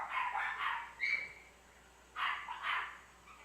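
Several dogs bark in a couple of short bursts at a moderate distance, with quieter gaps between the volleys and no talk over them.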